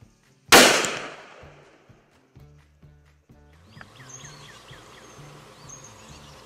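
A single loud, sharp gunshot during a hog hunt in Alabama, sudden and close with a decaying tail, followed by quieter rustling, footsteps and faint bird calls outdoors.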